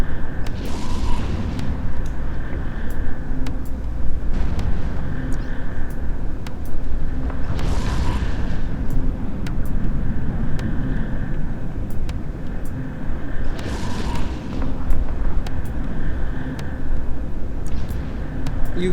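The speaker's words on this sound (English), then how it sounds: "Turn up the afterburner" Spaceship afterburner roaring in a space video game, piloting a Xian-Yue prototype destroyer: a loud, steady broadband engine rumble that runs throughout, swelling in periodic whooshing surges.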